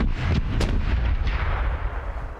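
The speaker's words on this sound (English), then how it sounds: "Cannons are ready to fire!" Ship cannons firing in the pirate game Corsairs Legacy, a few heavy booming blasts in quick succession with deep low rumble and rolling decay, loud and close.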